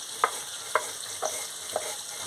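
Okra fries in a pan with a soft, steady sizzle, punctuated by four evenly spaced stirring scrapes of a spatula against the pan, close and fairly quiet, with no voices.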